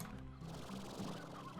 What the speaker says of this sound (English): This is the chicken farm area, right?